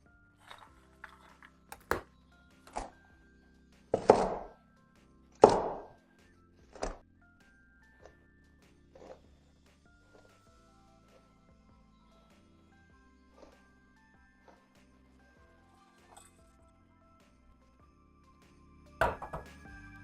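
A knife chopping pecans on a cutting board makes scattered sharp thuds, a few loud and close, others soft and sparse across a quiet kitchen background.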